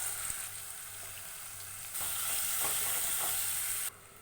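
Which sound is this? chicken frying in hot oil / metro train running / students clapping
chicken frying in hot oil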